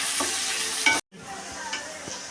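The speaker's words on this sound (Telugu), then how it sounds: "ఎర్రగడ్డలు బ్రౌన్ కలర్లో వచ్చేదాకా వేయించుకోవాలి" Onions frying in a pan until brown, with curry leaves and whole spices, give a continuous close sizzle with rhythmic stirring scrapes, broken by a brief silence before the frying resumes.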